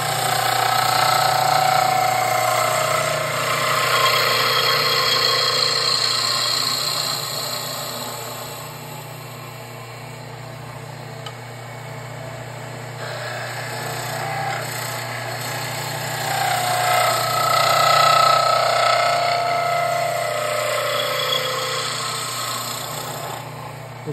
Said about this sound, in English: I'm now going to use a skew chisel to define the top.